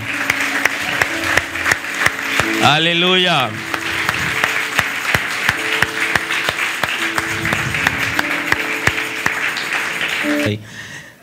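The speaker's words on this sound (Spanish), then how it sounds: "Denle un aplauso al Señor por darnos este chance hoy" Church congregation clapping together during a Spanish-language service: sustained applause with sharp individual claps throughout, someone speaking and singing a drawn-out exclamation over it, and music tones underneath before it stops abruptly.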